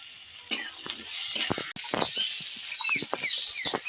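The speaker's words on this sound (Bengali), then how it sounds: "কুচিয়ে রাখা কপি দিয়ে একটু ভাজা ভাজা করে নেব" Chopped cauliflower and onion frying in a pan for aloo-phulkopi chop filling, with soft sizzling and irregular stirring scrapes, close and moderately loud, no talk.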